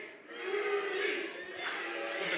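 Wrestling crowd at an OCCW live event, a broad sustained roar of cheering that swells and stays loud throughout, with no clear voices standing out.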